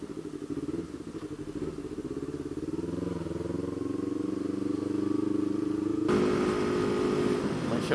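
An MT motorcycle engine drones and climbs in pitch as it revs while riding, the note rising steadily, then shifting abruptly near the end.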